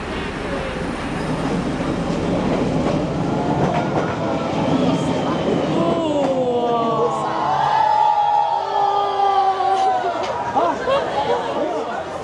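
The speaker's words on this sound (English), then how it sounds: "So the train just went by." A train rumbles past very close by in Hanoi, Vietnam, with rattling and clacking, then screeching metallic squeals rise as it passes, while people's voices murmur in the background.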